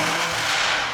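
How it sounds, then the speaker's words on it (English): BMW M5 Competition fitted with catless downpipes and front mount intakes accelerates hard, its turbo spooling in a loud, dense rushing engine roar that fills the whole brief moment. "Now that turbo spool's insane, bro."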